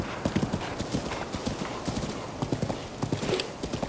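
Horse hooves clip-clop in The Legend of Zelda: Breath of the Wild, a quick, rhythmic trot of close, distinct hoof strikes that continues throughout.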